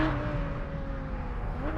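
Engine of a 2022 Porsche 718 Cayman GT4 RS heard from inside the car, a loud, steady droning hum holding one pitch before rising slightly at the end.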